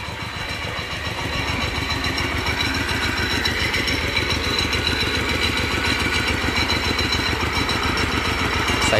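A homemade 4x4 tractor engine chugs steadily with a fast, even beat while its hydraulics are raised, close and loud with no talking.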